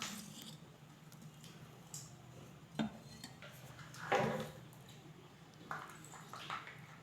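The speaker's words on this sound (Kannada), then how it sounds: "ಹಿಟ್ಟೆಲ್ಲ ಚೆಂದಾಗ ಮಿಕ್ಸ್ ಆಗಬೇಕು ರೀ" Idli batter with salt and soda powder being mixed by hand in a vessel, soft wet squishing with a few sharp knocks against the vessel, close and fairly quiet.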